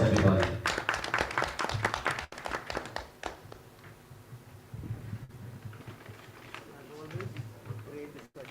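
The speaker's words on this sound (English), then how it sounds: "Let's keep the applause going" Audience at a panel event claps at first in a lively burst, then the applause thins into scattered fading claps while a voice speaks over it.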